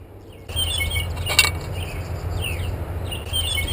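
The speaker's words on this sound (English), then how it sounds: "That's actually a blue jay." A blue jay gives odd, squeaky descending calls among other birds, with a brief sharp clicking burst early on, over a soft constant outdoor rumble.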